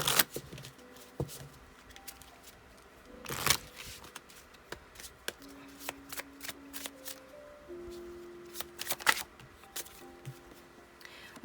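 Tarot cards being shuffled by hand in a quiet room, a steady run of soft riffling flutters and crisp snaps spread across the whole stretch, close and fairly quiet with no talk.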